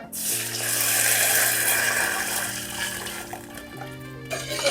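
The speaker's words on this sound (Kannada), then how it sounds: "ಒಂದು ಚರಿಗೆ ನೀರು ತೊಗೊಂಡಿನಿ, ಅದನ್ನ ಹಾಕ್ತೀನಿ ನೋಡ್ರಿ" A jug of water pours steadily into a pan in a continuous rushing stream, loud and close, with a faint low tonal hum running underneath.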